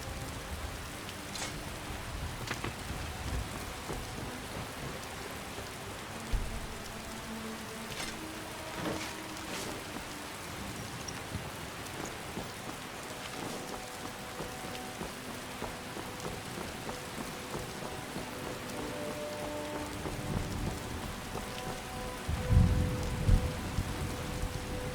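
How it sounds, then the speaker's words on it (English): Steady rainfall in the video game Skyrim: an even, continuous hiss of rain with soft scattered droplet ticks and a few low rumbles, and no voices. "So yeah, it's still raining"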